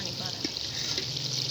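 Water streams steadily into a cooking pot for vegetable pulao, a continuous close-up pouring and trickling sound with faint background noise.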